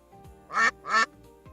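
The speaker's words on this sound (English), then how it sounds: "There goes the duck." Two loud, nasal duck quacks in quick succession, each about a quarter second long, close by and standing out against a quiet background, made by a man nearby rather than a live bird.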